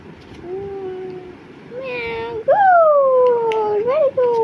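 A child imitates a cat's meow with a drawn-out, rising and falling voiced call, preceded by softer vocal sounds, close and clear in a quiet room.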